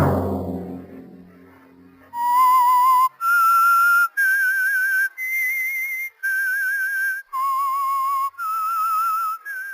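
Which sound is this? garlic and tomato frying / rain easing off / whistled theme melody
whistled theme melody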